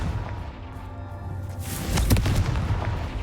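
A Confringo blasting curse explodes in Hogwarts Legacy, a single close boom with a sharp crackling burst fading into rumbling debris.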